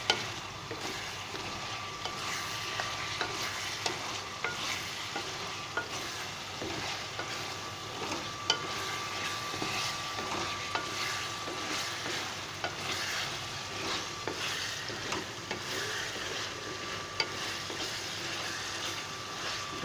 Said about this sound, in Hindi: ये जैसे थोड़े से मैं भून लेता हूँ